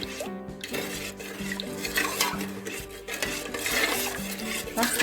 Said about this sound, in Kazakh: Жақсылап араластырып қоямыз.